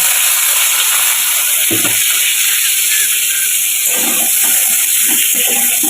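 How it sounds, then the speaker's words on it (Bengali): Steady hissing sizzle of ridge gourd frying in hot oil with nigella seeds, loud and close, with a few soft bumps and clatters partway through. "ঝিঙেগুলো দিয়ে দেবো।"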